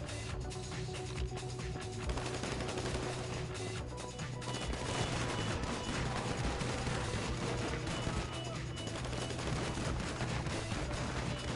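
Gunfire during a bank heist in a video game, dense bursts and rapid shots, with sounds of smashing and crashing mixed in, steady and moderately loud for the whole stretch.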